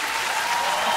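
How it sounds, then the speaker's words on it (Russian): Dense studio audience applause on the dance show Dancing with the Stars, a full steady wash of clapping throughout the short moment. "Хлопайте громко!"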